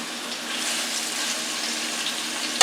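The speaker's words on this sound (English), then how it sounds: "I'm going to put them in, let them start cooking." Chopped large onions sizzle in a pan at the start of a chicken stir fry, a steady close hiss that ends with a sharp metallic clink.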